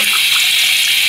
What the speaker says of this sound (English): we are gonna talk about this sink faucet here.